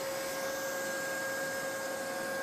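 A Neato D85 robot vacuum runs with a steady, even motor whine and airflow hiss, close and unbroken, with no talk.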